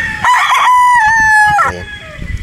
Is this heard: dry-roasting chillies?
no